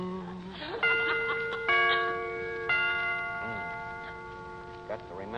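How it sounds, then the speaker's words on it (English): Clock chimes in an old-time radio comedy ring out as three sustained, bell-like strikes, each ringing on and slowly fading, fairly loud over a soft background hiss. "Got to remember to get them chimes made softer."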